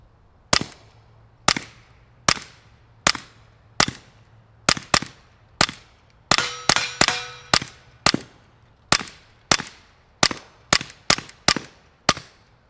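Suppressed Smith & Wesson .22 pistol firing CCI Standard rounds, roughly eighteen crisp, close shots at a steady pace of about one per second, tightening into a quick burst midway, each ending in a short metallic ring.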